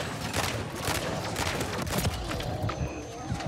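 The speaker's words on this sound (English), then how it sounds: "am I getting shot at by the soldiers?" Gunfire from enemy soldiers in MW3 Zombies open-world mode, rapid bursts of cracking shots at a distance mixed with game clatter and no talk.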